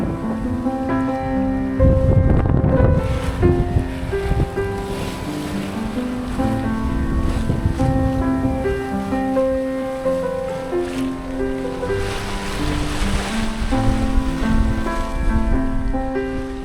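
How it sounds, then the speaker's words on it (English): A sailboat at sea lurching over waves and slamming back down, with water sweeping onto the deck: continuous loud rushing surf and wind, with heavier crashes and spray bursts rising through the roar. "you can see in this shot just how much water is being pulled up onto the decks as the boat lurches up and over waves and crashes back down"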